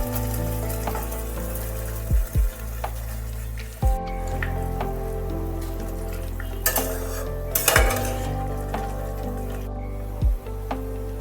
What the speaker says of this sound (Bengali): আম আমার শিরার মধ্যে দিয়ে দিয়েছি, আম ফুটছে